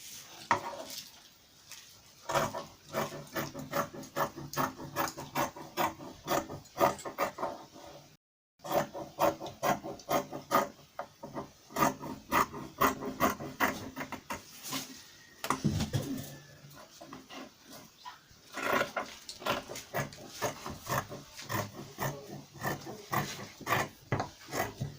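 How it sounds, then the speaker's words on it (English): Fabric being traced and cut out for a dress top, close scraping, rubbing and snipping noises in irregular bursts with brief pauses and no talk. "So let's go ahead and trace and cut out the fabric."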